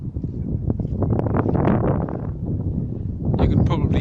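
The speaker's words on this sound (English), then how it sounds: "You can probably hear a lot of wind" Strong wind buffets the microphone at the Little Sands shoreline in South Shields, a gusty roar that rises and falls under a voice.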